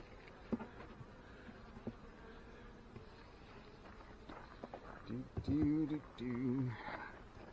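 Honey bees buzzing around a backyard swarm hive, a faint, thin drone with occasional footsteps, and voices talking over the last few seconds.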